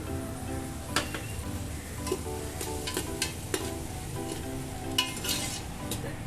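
Spiced cauliflower sizzles and fries in a pan for pav bhaji, with steady crackling and repeated scraping stirs of a spatula against the pan.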